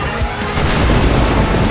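A huge nuclear bomb detonation in GTA 5, a loud, continuous, dense rumbling roar filling the whole short moment with no clear gaps.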